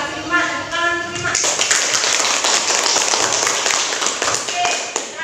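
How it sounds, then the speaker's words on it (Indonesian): A classroom crowd claps together in a dense, sustained burst of applause that starts after a moment of talk and continues steadily to the end. "Tepuk tangan untuk Ima."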